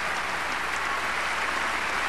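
Crowd at an ice skating show in Lake Placid, New York, applauding in a steady, even wash of clapping that holds at constant loudness throughout.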